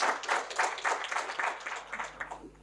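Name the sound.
audience applause for keynote speaker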